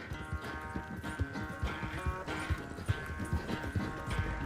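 Horse hooves clip-clop in a steady walking rhythm on a Red Dead Redemption 2 game trail, close and continuous with a faint background score.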